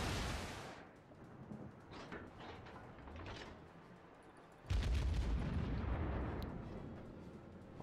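A Baltimore cruiser fires its guns in the naval battle game World of Warships: a loud booming salvo opens, softer distant thuds follow, then another heavy broadband blast hits midway and rumbles on to the end.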